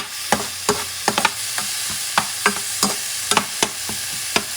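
Grated tomato being stirred in a cooking pot with dried whole peas, a spoon scraping and knocking in an irregular rhythm of sharp clicks over a low simmering hiss.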